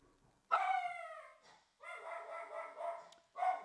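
Indoor dog barking and howling as a dog walker arrives, a long drawn-out howl-like bark followed by two more sustained vocal bursts, fairly close and without any talk.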